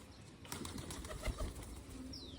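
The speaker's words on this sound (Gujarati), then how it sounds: "જો આ બધા નવા કબૂતર હે" Pigeons at a new dovecote, with soft cooing and a few brief bursts of flapping wings near the mic over a steady outdoor background.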